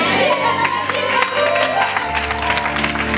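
A church congregation claps and cheers at a prophecy and deliverance service, with dense, loud applause, scattered shouts and whoops, and a voice calling out over the crowd.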